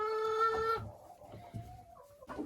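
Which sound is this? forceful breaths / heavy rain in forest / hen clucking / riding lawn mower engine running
hen clucking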